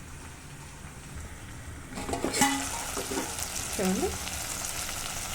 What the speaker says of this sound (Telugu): టమాటా అండ్ బెండకాయ పెట్టేసుకొని కొంచెం ఇవి బాయిల్ చేసుకుందాం.